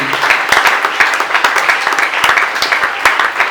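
A church congregation applauds the Lord during a French-language sermon: steady, dense clapping from many hands fills the room at full volume, with no talk over it.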